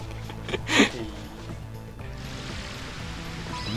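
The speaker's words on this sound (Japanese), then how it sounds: "滝だよ。" Steady rushing roar of a waterfall in Ape Escape 2, a broad continuous wash of falling water that grows fuller after the first two seconds, with a brief splash and game sounds near the start.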